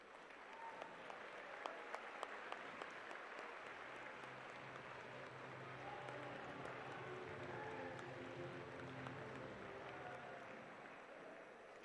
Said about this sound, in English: let's have a round of applause for these students who are nominated by their teams